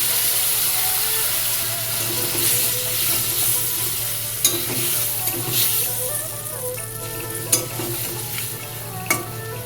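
Potatoes being stirred into a paste of poppy seeds, mustard and green chillies in a pan, with a continuous close sizzle and scraping stirs and a few sharper knocks of the spoon, with no talk.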